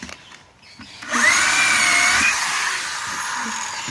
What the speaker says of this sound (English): He drilled a hole